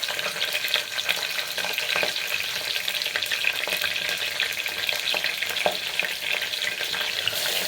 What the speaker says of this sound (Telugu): 3 గ్లాసులు పచ్చిమిర్చి వేసుకుంటున్నాం.